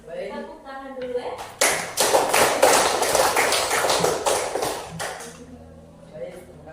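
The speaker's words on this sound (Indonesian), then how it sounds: "Tepuk tangan dulu ya." An audience at an Indonesian teachers' coaching session breaks into applause, a dense burst of clapping that swells quickly, holds for about three seconds, then trails off, with talk before and after.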